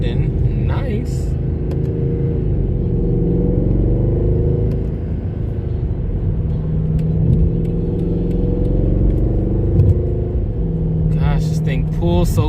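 A Mercedes C63 AMG pulls smoothly under way, its engine note rumbling and rising and falling as it accelerates, heard close from inside the cabin with a voice talking over it.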